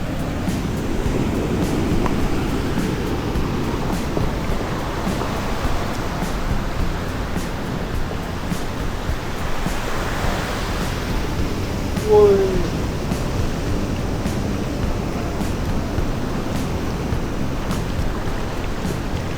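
Ocean waves roll in at Greweng beach, a steady broad roar of surf close by that runs through the whole stretch, with a voice speaking over it now and then.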